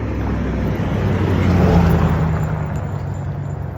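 A loud truck passes close by outdoors, a broad rumbling roar that swells toward the middle and then slowly fades, with no talking over it.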